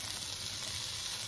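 Onions and vegetables frying in bacon grease inside an Instant Pot, a dense, even sizzle close to the pot with no talking.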